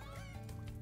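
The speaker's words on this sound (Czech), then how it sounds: "Máme tady vypelíchané slepičky." Short, soft clucking of chickens in the video game Spyro Reignited Trilogy, with faint game background sound around it.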